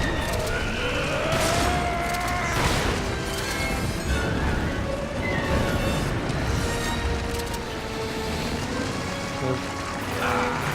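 Gunfire aimed at an enemy in the PC version of Resident Evil 5 during co-op play, a series of sharp loud shots and impacts spread over a busy game soundscape, with occasional voice-like tones mixed in.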